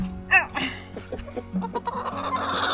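Several chickens and roosters cluck in short, uneven bursts close by, with one brief higher crowing call near the start.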